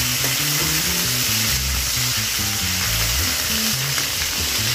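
Chopped tomato and green chillies fry in hot oil in a home kitchen while a Bengali-style chana dal with coconut is being made, giving a steady, close, continuous sizzle with no voices.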